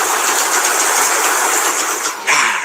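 A train runs along the rails with a loud, steady rumble and rattle, and a brief shift in tone near the end, with no talk.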